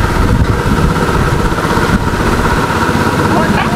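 A small boat's engine runs at a steady, loud drone while a fishing net is towed in the rain. The rumble is continuous and unbroken throughout.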